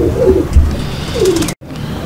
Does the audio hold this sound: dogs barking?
no